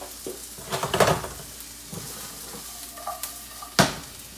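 Onions and peppers sizzle and get stirred in a pan, a soft steady fry broken by scraping stir strokes and a few sharp clinks of a utensil against the pan near the end.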